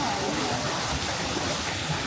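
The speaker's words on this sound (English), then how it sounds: "you get this beautiful landscape here with this waterfall" A waterfall at Disney's Animal Kingdom pours in a steady, broad rushing hiss, constant and fairly close, with no break across the short stretch.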